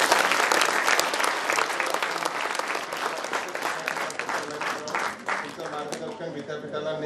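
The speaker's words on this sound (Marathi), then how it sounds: "तेव्हा सरांना एकदा त्यांच्या या व्याख्यानामधून जोरदार टाळ्या" Loud, sustained applause from a university audience after a lecture, with many hands clapping densely before the noise thins out and fades toward the end, while a voice speaks faintly over it.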